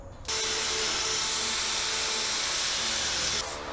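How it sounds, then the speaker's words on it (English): Power drill boring out spot welds on the bed side panel of a 1965 Chevrolet C10 pickup during a short bed conversion, one loud continuous high whine that starts abruptly and cuts off near the end. "We're going to drill out our panels here so we can take this panel off"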